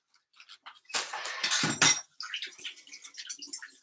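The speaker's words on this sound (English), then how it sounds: "Now I need to wash my hands and clear this." Kitchen cleanup sounds of dishes, pots and cutlery clinking and rattling, with some running water, in a burst of about a second after a quiet start, then lighter scattered clatter that continues.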